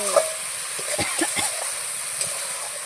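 Spice paste fries in hot oil with a constant bright sizzle, while a spoon scrapes and stirs through it in a few irregular strokes, close and fairly loud, with no talking.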